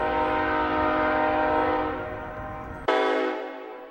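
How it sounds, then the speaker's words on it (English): A train horn sounds loud and close in a sustained chord, fading, then a second sharp horn blast cuts in near the end, with no voices over it. "are we gonna go down this rabbit hole of train sounds?"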